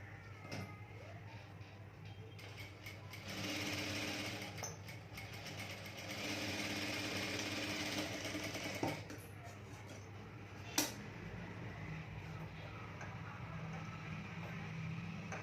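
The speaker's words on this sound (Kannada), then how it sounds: "ಇಲ್ಲಿ ನೋಡಿ ಇದನ್ನು ಈ ಥರ ಇಟ್ಕೊಂಡು ಹೀಗೆ ಸ್ಟಿಚಿಂಗ್ ಮಾಡ್ಕೋಬೇಕು" A sewing machine stitches a blouse, its motor running in quiet whirring stretches that start and stop, with a couple of sharp clicks from the mechanism at close range.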